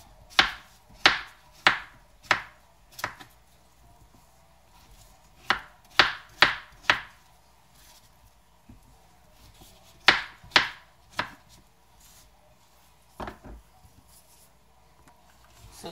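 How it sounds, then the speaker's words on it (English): A knife chops papaya or carrot into pieces on a board, a run of sharp, close knocks coming in quick bursts of three to five strokes separated by brief pauses, with no talking. "We are going to cut that too."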